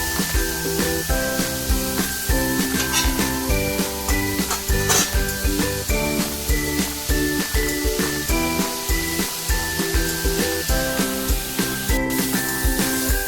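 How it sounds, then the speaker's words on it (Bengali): Cauliflower frying in a pan with only salt gives a steady sizzle and hiss, partly masked by rhythmic background music playing throughout. "কপিটা শুধু লবণ দিয়েই ভাজবো, হলুদ দেবো না।"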